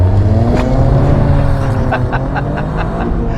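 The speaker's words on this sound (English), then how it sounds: "one of the good things about having a manual gearbox is it comes with a clutch, which means that you can drop it" A Toyota GR Corolla with a manual gearbox launches hard with a clutch drop, its engine roaring loud and close with a rising, rasping drone and a few sharp crackles as it accelerates.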